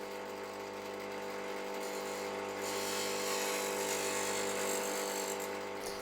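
A powered grinder sharpening a woodcarving tool blade gives a steady, buzzing whine with a rising hiss as the steel is lightly pressed in repeated passes, continuous and close.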